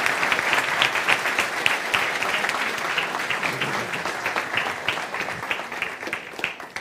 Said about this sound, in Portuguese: pedindo a todos uma salva de palmas